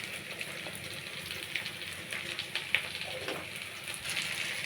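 Ginger paste, slit green chillies and spices sauté in a pan for a Bengali dish of fish head with pumpkin and malabar spinach, giving a soft, steady sizzle with faint crackles close by.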